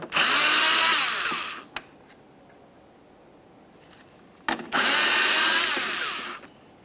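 Two loud, close bursts of a power tool driver on the 7mm bolts of a 1998-2002 Lincoln Navigator taillight, each whirring for about one and a half seconds, separated by a quiet gap.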